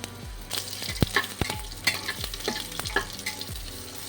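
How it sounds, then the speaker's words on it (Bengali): Chopped green mango pieces stirred in a little oil with mustard seed tempering, a bright sizzle broken by repeated spatula scrapes and knocks against the pan roughly every half second. "যে আমগুলো আমি কেটে রেখেছিলাম সেগুলো সামান্য তেলে একটু নেড়ে কেটে নেব"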